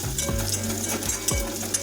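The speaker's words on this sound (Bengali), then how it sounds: "এখন এটাকে আমরা প্রায় মিনিট খানিক ধরে নাড়াচাড়া করে দেবো।" Chopped garlic sizzles in a hot pan as a utensil stirs it, with a steady frying hiss and a few scraping strokes against the metal close by.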